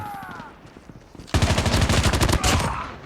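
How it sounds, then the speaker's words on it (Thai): Dense automatic gunfire from Call of Duty Mobile in a Gun Game team fight, a faint lead-in giving way at about a third of the way through to loud, rapid bursts that pound on without pause to the end. "ยิงไกลไม่ดูใกล้โดนเลย"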